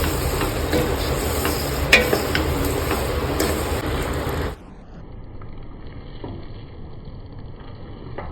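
Semolina prasad with sugar stirred in a pan, a dense scraping, sizzling wash for about four and a half seconds that cuts to a much quieter, softer background with faint scraping.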